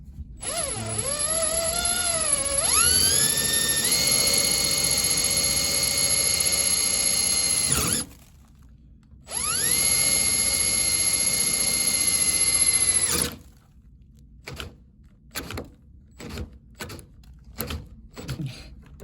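A power drill bores out an SFIC lock core in two long, loud sustained runs, each starting with a pitch sweep as the bit spins up, followed by a series of short clicks and taps, with no talking.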